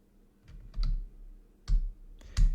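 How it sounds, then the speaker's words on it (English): Keys clack on a computer keyboard while a command is entered during an Arch Linux install, a few separate sharp presses and short bursts spaced irregularly, close and distinct with quiet gaps between. "So let's type in echo and then quotes again and then keymap"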